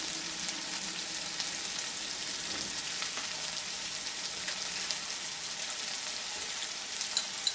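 Tomato going into hot oil in a pan for a Bengali-style tilapia dopiaza, a soft, continuous sizzle and crackle of frying that stays even and fairly quiet throughout, with no talking.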